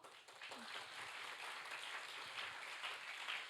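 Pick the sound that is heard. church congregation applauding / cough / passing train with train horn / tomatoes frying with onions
church congregation applauding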